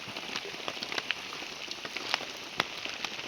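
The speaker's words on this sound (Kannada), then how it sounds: "ತೀರಾ ಮಳೆ ಬಂದ್ರೆ" Rain falls on an open field in a steady, soft patter, with scattered sharper drops tapping nearby, and no voices.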